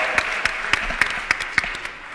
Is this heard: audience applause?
yes